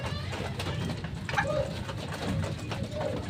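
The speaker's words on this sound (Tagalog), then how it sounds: "Ang aga nila na kompleto mga kalapatids." Racing pigeons coo in soft, low, repeated calls close by, set against a busy background murmur of other birds and faint ambient noise.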